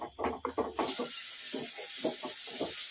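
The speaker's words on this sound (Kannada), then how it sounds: "ಚೆನ್ನಾಗಿ ಮಸಾಲ ಹಸಿ ವಾಸನೆ ಹೋಗೋವರೆಗೂ ಫ್ರೈ ಮಾಡ್ಕೊಂಡ್ಬಿಡೋಣ" Masala for kaju masala rice sizzles in a pan on a medium flame, a close, soft hiss with a few quick stirring scrapes and clatters at the start before settling into a steady, quiet frying sizzle.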